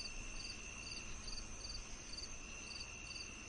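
Crickets chirp at night in a steady, pulsing rhythm of short repeated trills against a quiet, constant background hum, with no voices.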